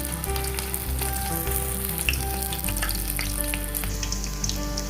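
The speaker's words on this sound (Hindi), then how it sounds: "ऐसे करके मैं सारे फिशेस को फ्राई कर लूंगी।" Basa fish pieces fry in oil over a very low flame, a dense continuous sizzle and crackle close up, with steady music playing underneath.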